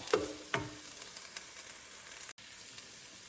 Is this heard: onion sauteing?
yes